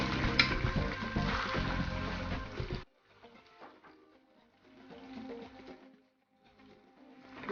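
Red onions hit hot olive oil with a loud hiss and crackle that quickly settles into a quieter, uneven sizzle, close by with no talking.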